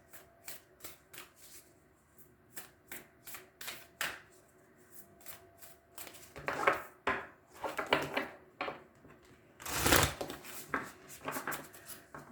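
Moonology Oracle cards being shuffled by hand, a run of quick papery riffles and taps that grows louder and denser midway, with a strong burst near the end, close and clear with no talking.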